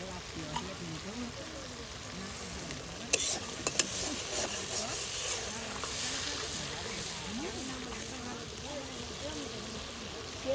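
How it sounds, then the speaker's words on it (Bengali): Ground and paste spices frying together in oil in an outdoor riverside cooking setting, a steady close sizzle with stirring scrapes and a couple of sharp clinks, a voice talking over it. "সেই গুঁড়ো মশলা, তার সাথে বাটা মশলা সব একসাথে কিন্তু এই যে তেলে ভেজে নেওয়া হচ্ছে"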